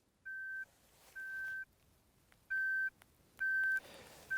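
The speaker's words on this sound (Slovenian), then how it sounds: "iz žepa vzamem svojo žolno in jo prestavim na iskanje." An avalanche transceiver switched to search mode gives a series of steady electronic beeps, five tones about half a second each at irregular spacing, clear and close over faint outdoor background.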